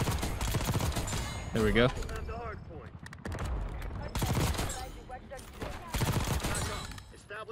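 Rapid bursts of SAUG submachine gun fire in Black Ops 6 gameplay, loud repeated volleys with short gaps between them, mixed with a voice talking over the shooting.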